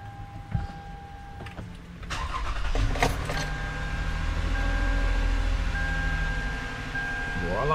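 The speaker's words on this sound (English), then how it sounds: "let's start up the engine" A 2013 Toyota Sienna Limited V6 cranks and starts after a few clicks, then settles into a steady close idle hum with a faint whine.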